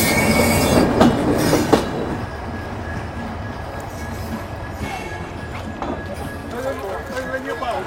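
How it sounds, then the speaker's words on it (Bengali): A train rolls past the platform footway at Shalimar railway station, its wagons rumbling and clattering close by with squealing wheels, while people talk over the noise. "এই যে ট্রেনটা যাচ্ছে, ট্রেনটা চলে গেলে আমাদেরকে ট্রেন লাইন ক্রস করে ওই দিকে যেতে হবে।"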